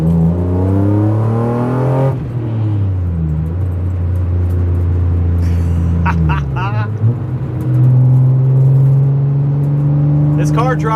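A BMW E36 M3 with its S52 engine and Bimmerworld race exhaust revs loudly and close, the tone climbing, dropping and rising again across several throttle blips in a sustained, raspy drone.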